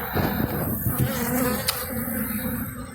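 A dense, steady buzzing hum from many honeybees in an opened hive during an inspection, close and continuous throughout with no voices.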